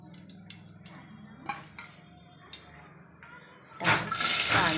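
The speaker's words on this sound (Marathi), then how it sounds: "यात आपण तेल टाकूया." Oil splashes into a hot cooking pot with a sudden sizzling rush near the end, preceded by a few light clinks of utensils against metal.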